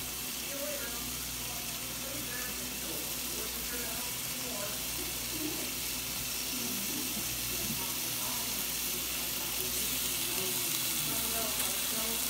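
Shrimp frying in a pan, a steady, close, dense sizzle throughout with faint stirring under it and a voice talking occasionally.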